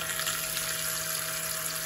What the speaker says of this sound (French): Je vais mettre l'eau chaude.